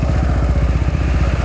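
A motorcycle engine runs loud and close with a steady, pulsing rumble as the bike flees police in Ji-Paraná, Rondônia.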